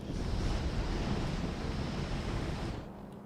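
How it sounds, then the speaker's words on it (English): A power plant in a factory and nuclear reactor building game whirs at full load: a loud, steady, broadband roar that holds evenly, then cuts off abruptly near the end. "the power plant is definitely whirring as hard as it can"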